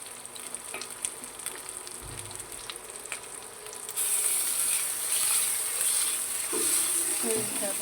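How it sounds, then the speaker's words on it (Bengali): Hilsa fish frying in a pan with mustard paste: faint clinks and stirring at first, then a loud, steady sizzle takes over about halfway through. "সেই জন্য আমি এভাবে একটু ভালো করে ভেজে নিচ্ছি।"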